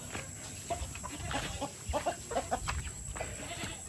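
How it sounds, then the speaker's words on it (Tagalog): Several chickens cluck softly and intermittently nearby over a low background hum. "So, mga manok ko, ito guys."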